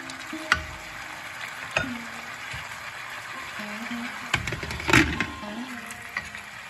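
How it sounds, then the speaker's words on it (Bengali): Potatoes cooking in a pan for a cucumber curry, a steady low sizzle broken by a few sharp clacks and scrapes of stirring, fairly close and moderately loud. "এখন আরেকটু সেদ্ধ হোক আলুটা"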